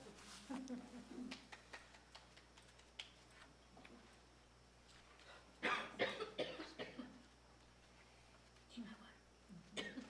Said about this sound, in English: And I have to cough now.